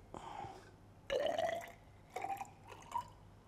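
TAE buffer solution is poured gently into a laboratory measuring cylinder, heard as several short gurgling, glugging splashes separated by pauses, close and fairly quiet.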